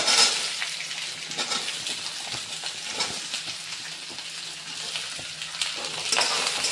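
Onion fries in a pot of oil for gravy alongside cloves, pepper, cardamom and bay leaf, producing a loud, continuous close sizzle with crackling pops throughout and no talking.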